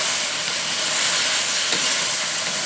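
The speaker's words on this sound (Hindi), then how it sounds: "लहसुन डाल के चिकन इसलिए फ्राई कर रहा हूँ कि चिकन के अंदर से जो पानी है वो भी निकल आएगा" Chicken frying with garlic in a pot, giving a loud, steady, close hiss of sizzling that holds without a break from start to finish; no talking.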